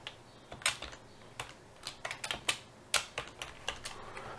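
Code is typed on a computer keyboard for an Arduino serial monitor sketch, with irregular close clicking keystrokes in short bursts, crisp and moderately loud, with no talking.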